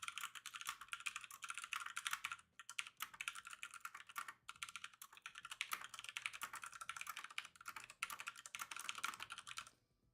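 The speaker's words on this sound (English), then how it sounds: "I'm gonna type this all out so you hear that clickety clackety." Rapid clickety keystrokes on a computer keyboard during a live glitch-art app session, steady and close, typing continuously with brief pauses, no voices.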